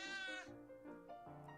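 A cat meows in the Cat President video game, one clear drawn-out meow followed by a softer wavering second call, close and alone with no talk.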